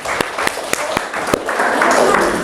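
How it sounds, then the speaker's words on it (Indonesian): Classroom applause for a student group after its presentation, with dense clapping from many hands that swells and continues steadily. Voices and talk run underneath throughout. "tepuk tangan dulu buat kelompok 2"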